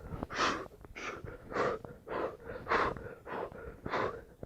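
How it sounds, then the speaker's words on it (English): Heavy breaths in and out repeat in a steady rhythm during crunch exercises, about seven forceful, wheezy exhalations and inhalations close to the mic with no talk. "When you come up in this crunching position like this, you exhale. Inhale. Exhale, inhale, exhale."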